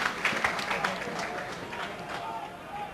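Crowd at a 1997/98 Plymouth Argyle versus Preston North End football match gives a broad, steady ripple of applause in the stadium, heard under a commentator's voice.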